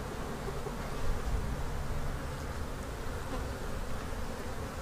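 Bees buzz steadily during a transfer into an observation hive, a dense continuous hum of many insects, close and moderately loud, with no talking.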